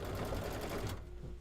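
Embroidery sewing machine stitching a white oak design in an autumn quilt project, a steady fast mechanical whir with rapid needle ticking that runs loud for about a second, then drops to a quieter hum.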